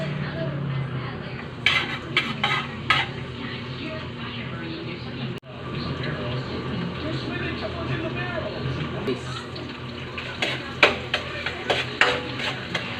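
Garlic fries in cooking oil in a pan while being stirred for a Malabar spinach dish, with a low sizzle under repeated scraping and clinking of a utensil against the pan, and a voice speaking over it.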